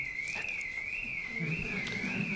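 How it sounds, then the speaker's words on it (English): A car alarm in a city sounds a single high tone that wobbles smoothly up and down in a regular cycle. Faint low voices murmur underneath. "I think legally car alarms have to stop after 30 seconds."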